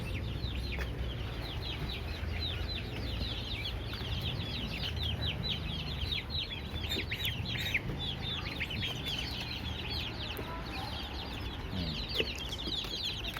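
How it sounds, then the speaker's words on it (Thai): Hens and chicks of a fighting-cock breed cluck and cheep continuously on a garden smallholding, a busy overlapping chorus of high peeps over low ambient rumble, fairly distant and steady. "กลุ่มนี้จะเป็นลูกไก่ที่มาจากสวนนะครับ แม่ไก่ที่ออกจากสวนนะครับ ก็คือ เป็นสายพันธุ์ไก่ชนนะกลุ่มนี้"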